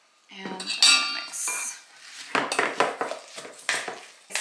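Metal utensil scraping and clinking against a dish as spinach, garlic and pepper are mixed together, with repeated uneven strokes close up and no talk.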